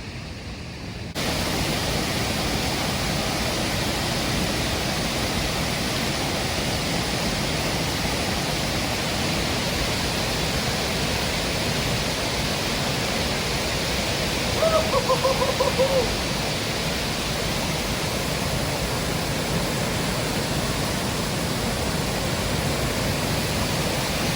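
Small waterfalls along the trail to the Fairy Pools on the Isle of Skye send out a loud, constant rush of water that fills the whole scene without pause.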